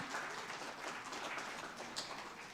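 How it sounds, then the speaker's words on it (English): An audience claps to welcome a panel onto the stage at a conference session on generative AI in pharma and life sciences. The applause is a steady, fairly faint patter of many hands that lasts the whole stretch. "Round of applause."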